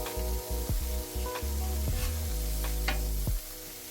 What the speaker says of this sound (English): we'll come and flip these burgers